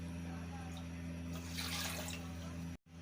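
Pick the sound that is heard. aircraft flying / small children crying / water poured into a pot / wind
water poured into a pot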